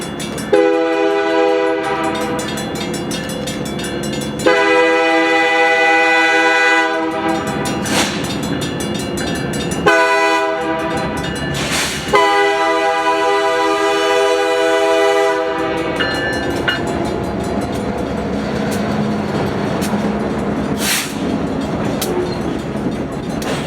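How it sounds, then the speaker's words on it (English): A Utah Central train rolls through a railroad crossing, sounding loud, sustained horn blasts in a long-short pattern over the rumble and clatter of passing cars, close by and loud throughout. "Minutes later, the Utah Central returned through the crossing, now heading back to the yard."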